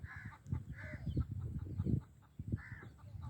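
A hen clucks in repeated short bursts close by, with a dog on a farm where chickens and ducklings roam; low rhythmic clucks rise and fall steadily without speech.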